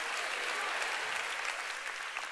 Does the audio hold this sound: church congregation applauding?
yes